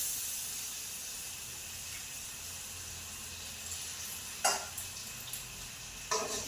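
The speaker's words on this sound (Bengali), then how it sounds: "পেঁয়াজটাকে ভালোভাবে লাল লাল করে ভেজে নিচ্ছি আমি" Onions fry in oil in a pan with ginger-garlic paste, giving a steady close sizzle and hiss, and a few sharp stirring scrapes and clacks come near the end.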